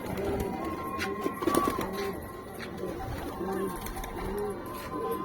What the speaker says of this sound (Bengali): এই দু একটা মাদি পায়রা ঢুকে যায়